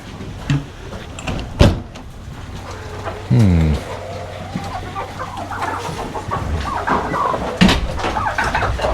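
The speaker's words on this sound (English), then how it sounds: "Okay, you crazy ducks. You got any more eggs for me?" Ducks on a farm during morning chores while eggs are gathered give clucking calls and one clear, drawn-out honking quack mid-way, with rustling and a door-like thump nearby.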